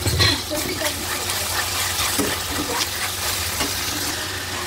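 Thinly sliced beef and onions sizzle loudly in a hot pan, a dense continuous frying hiss with stirring scrapes close by.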